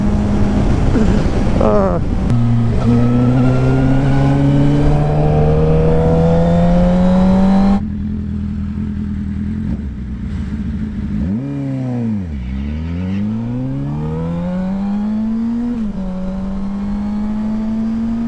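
A car accelerating hard rises in engine pitch, then a vehicle sweeps past with a falling Doppler whine and revs away, recorded from inside another car with wind noise and steady road roar.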